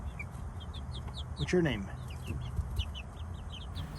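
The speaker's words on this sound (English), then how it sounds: "new chickens, as you can see" Chickens in a new coop cluck and chirp nearby in repeated short bursts, while someone briefly speaks a question over them.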